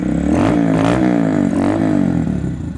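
A Honda Monkey 125 motorcycle engine fitted with a Chimera short ram air intake runs close by with a steady, loud, harmonic drone. The pitch wavers slightly as the throttle blips.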